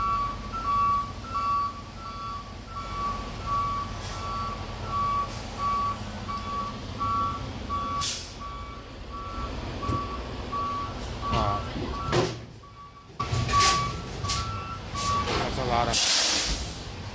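Two trucks swapping trailers back up at once in the morning, their reversing alarms beeping in overlapping steady rhythms over engine rumble and air-brake hiss, while people talk nearby.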